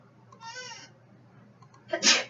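A short sneeze bursts out sharply near the end, following a brief nasal, bleating sound earlier, in a quiet room.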